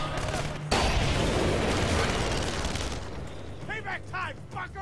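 A frag grenade goes off in Splinter Cell: Conviction, a sudden broadband blast at close range followed by a long rumbling roll of debris and gunfire, with voices talking under and after the explosion.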